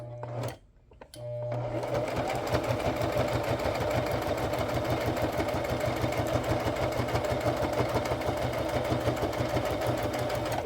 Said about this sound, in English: I'm gonna come with a straight stitch right there.